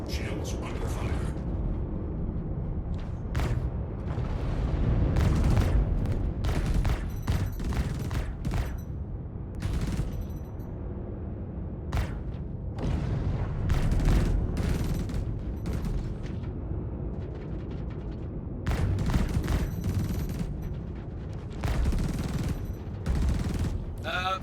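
Weapons fire and explosions hitting ship shields in the space game Star Citizen: repeated bursts of rapid gunfire and sharp impacts over a steady hum, with voices talking at times.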